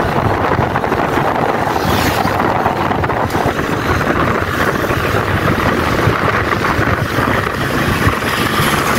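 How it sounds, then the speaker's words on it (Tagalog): Strong wind roars and buffets constantly while riding a Flex 125i motorcycle, a loud rumbling rush across the whole span with no letup. "Malakas hangin eh."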